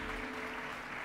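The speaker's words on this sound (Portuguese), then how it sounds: "Tome o seu lugar aplaudindo o Senhor por essa palavra." A church congregation applauds during a Portuguese-language worship service, a soft, steady wash of clapping heard from a distance with no distinct individual claps.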